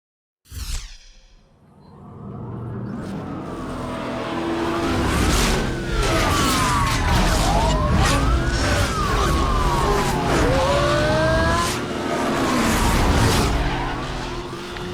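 A yellow Corvette ZR1 races in Need for Speed Hot Pursuit Remastered on a sunny midnight duel, its engine roaring steadily with rising and falling pitch sweeps, faint siren-like wails and skids layered over a loud, continuous game mix.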